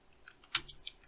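A command typed on a computer keyboard at a command prompt: a few quiet, sparse keystroke clicks, with one sharper tap standing out, and no one talking.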